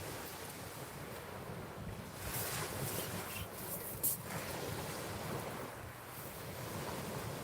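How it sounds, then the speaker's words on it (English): Sea swell breaking on a shoreline during a westerly wind at a bass fishing spot, a steady loud wash of surf with gusty wind noise buffeting the microphone and a brief sharper crash midway. "We've got a nice little swell, we've got waves crashing in, we've got a bit of wind, westerly wind."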